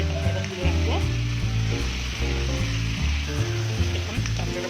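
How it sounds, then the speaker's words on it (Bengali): Crab pieces frying in hot oil in a kadai for a Bengali crab curry, a steady loud sizzle with a bubbling crackle running throughout and no talking. "কাঁকড়াটা প্রায় ভালো করে ভাজা হয়ে গেল।"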